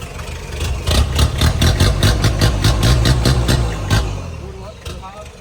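A Ford Ranger 2.5 4x4 pickup's engine revs in a series of quick throttle blips, a loud, close, rhythmic rumbling pulse that rises and falls for several seconds, with a voice talking over it.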